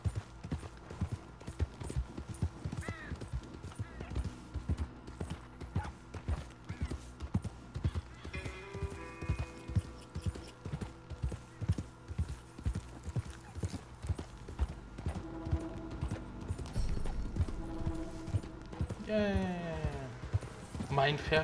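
Horse hooves clip-clop at a steady trot in the video game Red Dead Redemption 2, with occasional whinnies and someone talking over the rhythmic hoofbeats.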